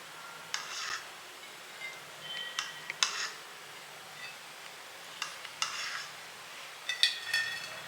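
Raisins frying in ghee with cashews for bread halwa, a soft sizzle under repeated light stirring scrapes and clinks of a spoon against the pan, no speech.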